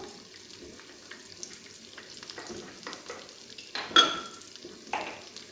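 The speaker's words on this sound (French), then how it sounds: "مع السلق ونخلوهم يتقلاو" Chard and garlic sizzling in a pan, a soft, low-level frying hiss with scattered stirring scrapes and one louder clatter midway; no speech.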